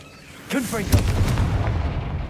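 A sudden, sharp blast from the Confringo explosive spell in Hogwarts Legacy, thumping in after a brief quiet lead-in and ringing out with a rumbling tail; a voice can be heard around it.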